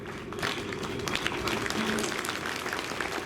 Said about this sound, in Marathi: मस्त सुंदर टाळ्या वाजवल्या.